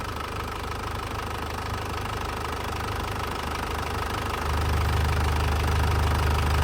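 A 2011 Isuzu Panther Grand Touring diesel engine idles steadily with a knocking clatter, heard close and continuous, and its low rumble swells a little louder partway through; no one speaks.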